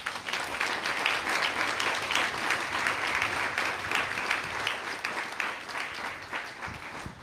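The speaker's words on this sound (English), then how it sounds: "Let's give them all a round of applause." Sustained audience applause at a 2021 commencement ceremony of the Hawaii National Guard Youth Challenge Academy in Kalaeloa; dense, steady clapping fills the whole stretch at an even level, with no voice over it.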